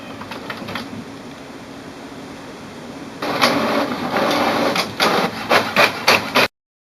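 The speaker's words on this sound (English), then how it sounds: "it will print out a piece of information on the printer" An HP OfficeJet Pro 9020 inkjet printer prints a page, first with a steady low mechanical hum, then a louder run of rapid clicking and rattling carriage strokes that stops abruptly.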